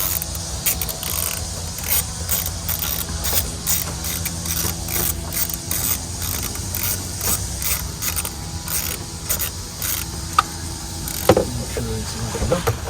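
Ratcheting and mechanical clicking from a wrench torquing bolts during an oil change on a 2022 Ram 1500 V6 eTorque, steady close-up clatter with repeated sharp ticks throughout and a couple of louder knocks near the end.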